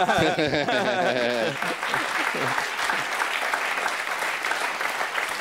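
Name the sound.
studio audience applause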